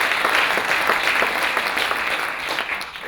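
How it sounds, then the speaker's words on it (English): An audience at a documentary film festival applauds, a sustained wash of many hands clapping that holds steady and then begins to thin out toward the end. "And of course, your moderator, Chris Kijne, also a big applause, please."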